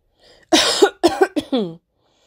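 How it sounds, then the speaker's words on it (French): A few sharp coughs in quick succession, close and fairly loud, after a faint breath. "je tousse."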